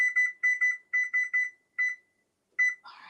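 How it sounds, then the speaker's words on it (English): A kitchen timer beeps in short electronic chirps as it is set, pairs and single beeps at uneven spacing, close and clear, ending in a brief rustle. "let's put the timer on."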